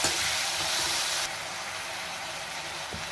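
Tomatoes stirred in a hot pan for a coriander tomato chutney, a steady close sizzle and frying hiss that drops slightly in loudness partway through, with no talking.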